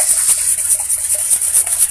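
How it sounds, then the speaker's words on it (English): Eggs and milk being whisked in a bowl, heard as fast, rhythmic, high-pitched scraping strokes, about eight in under two seconds, close and fairly quiet. "Get that all whisked up."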